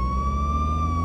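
Police car siren in the video game Contraband Police, a steady high wail sounding continuously over a low engine rumble.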